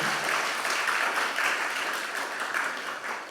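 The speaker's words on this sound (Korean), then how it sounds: "박수 한 번 더 해주시고 들어가세요" A church congregation claps during a worship service, producing a steady round of many hands clapping that eases slightly toward the end.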